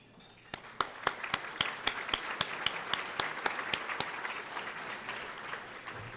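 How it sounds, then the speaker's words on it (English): Guests introduced at a luncheon get applause: a scattered round of clapping from the crowd with distinct sharp claps standing out near the front. It thins out after about four seconds. "let's give them a round of applause for being here"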